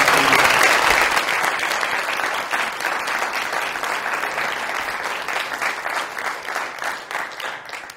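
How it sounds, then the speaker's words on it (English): A lecture audience applauds loudly and steadily, a dense wash of many hands clapping that fades gradually over several seconds. "Give her a round of applause."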